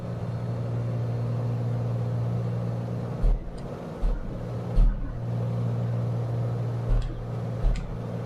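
A big six-cylinder aircraft engine at the front of a small plane in Flight Simulator 2020 drones steadily and loudly in the cabin, a constant low hum broken now and then by short thumping bumps.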